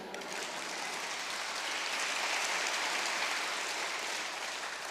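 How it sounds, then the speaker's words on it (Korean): A church congregation at an evening camp sermon claps together in a steady, hissing wash of many hands, heard from a distance and fairly quiet, with no talking. "박수 한번 치세요."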